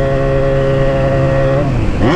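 Motorcycle engine idling while cold just after starting, a steady close harmonic drone that dips and shifts slightly in pitch near the end.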